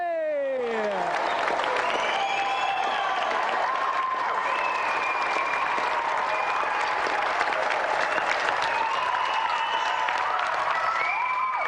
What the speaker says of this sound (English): So let's have a final round of applause for Jamie Brown and tonight's special guest,